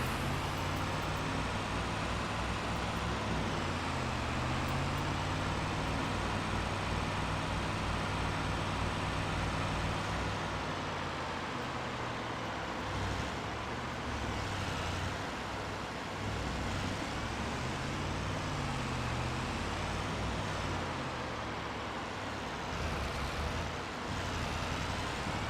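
A truck drives along a road in a video game, giving a continuous dense engine drone and road rumble whose pitch shifts gently as it moves, steady and loud with no pauses.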